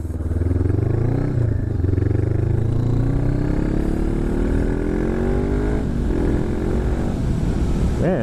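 A motorcycle ridden on the road accelerates steadily, its engine note climbing smoothly and loud throughout, close up with wind roar.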